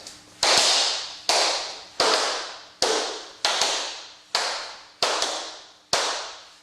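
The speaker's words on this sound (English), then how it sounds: "If you're doing that fast jerky shuffle," Tap dance shoes striking a hard floor in fast, jerky shuffle steps: eight sharp, bright clicks spaced roughly evenly, each with a short ringing tail, close and alone.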